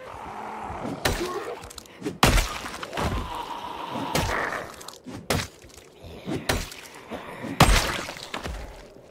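A zombie in the survival game Project Zomboid bangs and smashes at a window, with repeated loud thuds, cracks and groans spread across several seconds, close and harsh.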